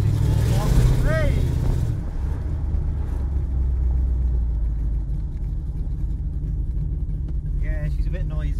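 A Corvette C3's 5.7-litre 350 V8 idles with a deep, loud, rumbling burble, while a voice speaks briefly over it near the start.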